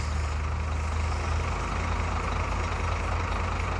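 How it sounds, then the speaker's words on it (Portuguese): A truck drives past close by, a loud, steady engine roar and rumble that fills the whole stretch without a break. "o caminhoneiro veio aqui fazer barulho diante da gravação"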